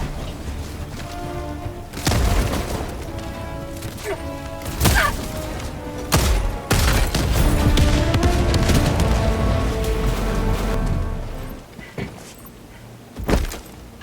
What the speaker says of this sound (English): Feeling refreshed, I destroyed an outpost, Fire in the hole!